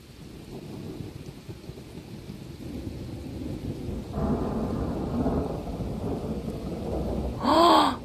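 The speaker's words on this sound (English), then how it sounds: "This thunder is coming from here." Thunder rumbles from a nearby thunderstorm during a lightning display, a low rolling roar over steady rain. The rumble swells partway through, and a short burst of noise comes near the end.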